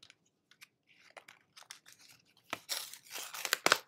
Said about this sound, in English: I'm just going to rip this one apart so I can see